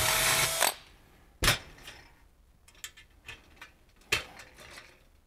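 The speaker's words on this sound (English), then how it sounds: "A short amount of riveting." Rivets being set in aluminum sheet metal on a Zenith Super Duty kit aircraft build, a few sharp separate bangs and snaps spaced irregularly after a burst of noise at the start, close and fairly loud with quiet gaps between.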